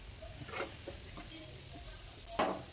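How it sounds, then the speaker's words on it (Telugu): Chopped egg added to a pan fries with a faint sizzle while a utensil stirs, making a few soft scraping strokes and light clinks against the pan. "ఇప్పుడు మనం కట్ చేసుకున్న ఎగ్ అనేది దాంట్లో వేసేసుకోవాలి."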